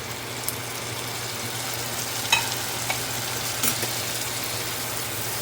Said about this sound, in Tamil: வெங்காயம் அரை வேக்காடை வதங்கினதுக்கப்புறம் தக்காளியை போட்டுடலாம்.